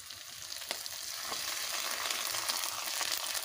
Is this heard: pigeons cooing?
no